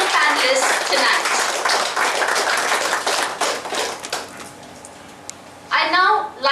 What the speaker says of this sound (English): once again a huge round of applause for our promoters and the panelists tonight